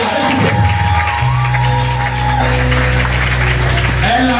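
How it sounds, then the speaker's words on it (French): Church congregation at a Sunday service applauding and cheering loudly, a dense sustained roar of clapping and shouts with a held musical tone underneath. "Est-ce qu'on peut acclamer Jésus?"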